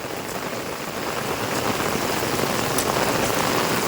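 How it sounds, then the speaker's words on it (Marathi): Heavy monsoon rain pours steadily onto surfaces nearby in Ratnagiri on the Konkan coast, a dense, even hiss with scattered louder drops and no voices. "म्हणजे किती पाऊस पडलाय बघा"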